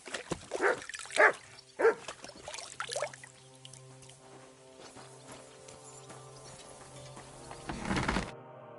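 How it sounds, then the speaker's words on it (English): A dog barks in the medieval video game Kingdom Come: Deliverance II: three or four sharp, close barks in quick succession, then quieter whimpers over a low ambient hum that ends in a brief rustle. "You silly doggy."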